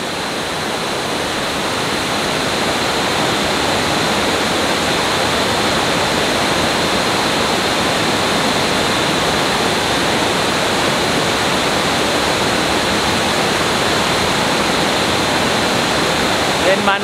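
Mag Aso Falls waterfall rushing with a loud, dense, continuous roar of falling water that stays steady and close throughout.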